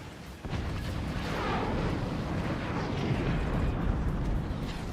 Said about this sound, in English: And now the follow-up cannons.